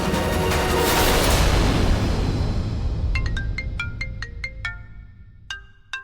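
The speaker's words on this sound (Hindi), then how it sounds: "रुचिता की दादी का फोन" A phone ringtone plays a series of bright electronic chime notes in a repeating pattern, following a fading whooshing rumble; no voices.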